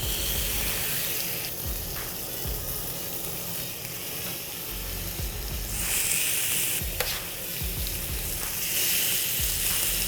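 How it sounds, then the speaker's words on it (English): Feta-brined chicken pieces, oiled, salted and peppered, sizzle on a grill with a steady crackling hiss and occasional low knocks, close and continuous with no talking. "Let's get these onto the grill."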